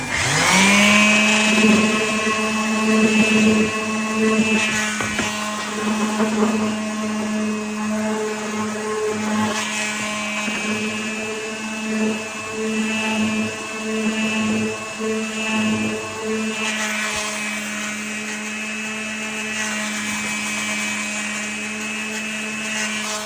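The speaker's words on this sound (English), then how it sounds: "So I'm going to give it a bit of a sand down, and then I'm going to re-lacquer it." A wooden test tube holder is sanded down with a power sander, a loud steady motor whine with a sustained tonal hum and rough rasping surges as the tool works the wood.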